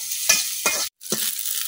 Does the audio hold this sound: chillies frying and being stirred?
yes